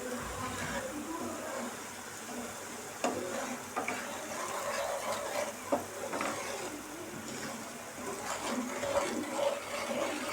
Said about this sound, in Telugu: 2 కప్పులంతా సూజీ రవ్వను యాడ్ చేసుకుందాం ఫ్రెండ్స్. యాడ్ చేసుకొని సిమ్లో బాగా దూరగా వేయించుకుందాము.